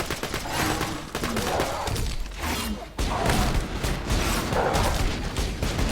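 Gunfire from Borderlands 2 fighting a large flamethrower-style boss, with dense, continuous bursts of shots and booms running loud through the whole stretch, briefly dipping before resuming.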